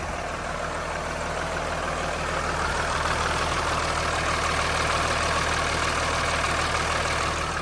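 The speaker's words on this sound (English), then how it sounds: "Motor sounds fine." A Mercedes Sprinter 3500 ambulance with a 3.0 engine idles steadily, a close, even, low mechanical rumble with a constant hum that holds without change throughout.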